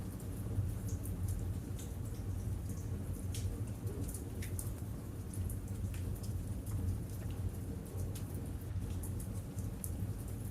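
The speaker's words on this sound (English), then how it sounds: "listen to the rain falling softly outside." Soft rain falls outside, a faint, steady patter with scattered drips and a low rumble underneath, no voices.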